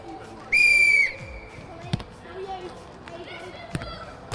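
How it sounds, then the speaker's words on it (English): A referee blows one long, loud, shrill whistle blast to start a game on a football matchday show, followed by quieter thumps and bounces. "On my whistle."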